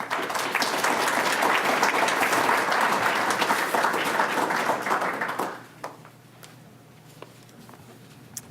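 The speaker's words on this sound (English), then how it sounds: "Shall we finish with a round of applause for all of these wonderful projects and people?" An audience at a historic preservation awards event bursts into loud, dense applause that holds steady for about five seconds, then quickly fades to a few scattered claps in a quiet room.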